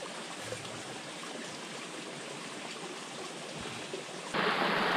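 A forest stream flows in cold winter woodland, a continuous rushing babble heard at a moderate, steady level, growing abruptly louder and brighter near the end.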